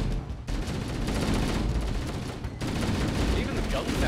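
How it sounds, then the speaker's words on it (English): Sustained automatic gunfire from Halo: Combat Evolved, loud and dense, rattling almost continuously with two brief breaks. "Even the gun sounds different in classic"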